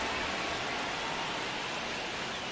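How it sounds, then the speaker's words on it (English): Steady, dense hiss of rain falling during a baseball game in MLB The Show 26, continuous and fairly loud, with no talk over it. "This rain is not letting up."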